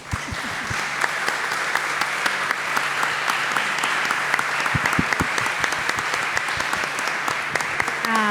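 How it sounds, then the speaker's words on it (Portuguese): An audience at a debate panel claps continuously, a dense, even wash of applause that holds steady throughout without dying down. "Vamos aplaudir, né?"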